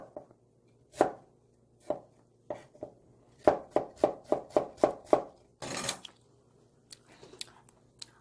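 A knife slices chestnuts on a cutting board for water kimchi. Crisp chops come singly at first, then in a quick run of about six, with a scrape near the end.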